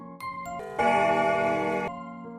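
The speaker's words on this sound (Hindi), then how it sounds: "घंटे की आवाज से पूरा वातावरण गूंज उठा।" A large bell rung by pulling hard on its rope gives a loud, sustained ringing tone with rich overtones, swelling and fading after a couple of softer strikes.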